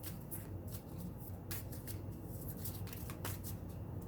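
Tarot cards being shuffled by hand for a reading, a close, quiet run of quick riffling flutters and soft slaps repeating throughout.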